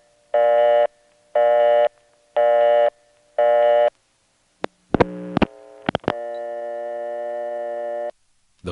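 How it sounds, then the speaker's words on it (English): A 1970s Bell System coin telephone line gives four evenly spaced tone bursts, then a few sharp clicks of the coin collect or return, followed by a steady dial tone. "after the collect or return, you just get another dial tone"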